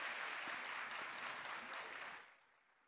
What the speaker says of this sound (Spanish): Un fuerte aplauso para Marisabel, por favor.